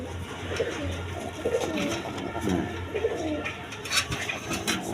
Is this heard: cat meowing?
no